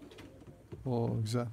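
Pigeons at an online pigeon auction, platinum-coloured birds and mostly females, give a soft, low cooing burst in the second half, close and fairly loud, after quieter murmuring; a person speaks briefly.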